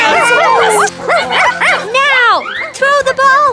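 Cartoon monster dog from a Halloween kids' cartoon, giving a run of close, loud yips, barks and whimpers mixed with excited character voices talking over it.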